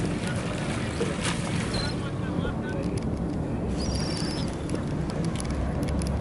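Yellowfin 24 fishing boat running on the open ocean off Miami, a steady broadband rush of hull, engine and wind noise throughout, with faint voices and brief chirps over it.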